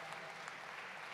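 Steady applause from a Christmas charity concert audience for an orchestra fills the whole moment, a dense wash of clapping with no pauses.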